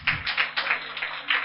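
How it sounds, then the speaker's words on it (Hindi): Students applauding for themselves at a summer camp prize distribution, a quick run of sharp claps coming in uneven bursts, moderately loud and close, with no talking. "आप खुद के लिए तालियां बजा लीजिए"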